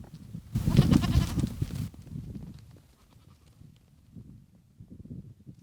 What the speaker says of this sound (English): They're two small goats